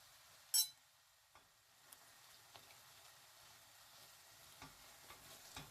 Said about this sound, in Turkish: Salçamızın çiğliği geçene kadar 1-2 dakika kavuralım.